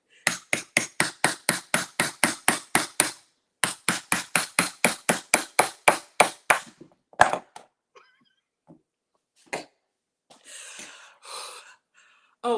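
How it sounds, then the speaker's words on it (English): A hammer knocks the spine of a knife blade down through a raw rutabaga: a fast, even run of about two dozen sharp, close knocks with one short pause, then a few scattered, slower taps. "And you want to hammer on this part, okay? Not on your blade."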